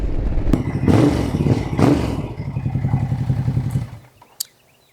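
A 2012 Ducati Diavel motorcycle engine runs close and loud, rumbling and revving before settling into a steady throbbing idle that cuts off abruptly, followed by a single sharp clunk in the quiet.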